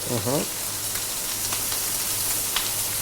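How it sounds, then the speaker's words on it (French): Fish and prawns sear in a hot pan with a steady, close sizzle, while a brief voice-like sound surfaces near the start. "le poisson est en train de bien snacker"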